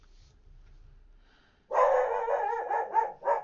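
Dog barking indoors: a quiet low rumble, then a burst of several close, loud barks and yips in quick succession.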